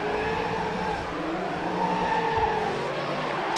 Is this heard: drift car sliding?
yes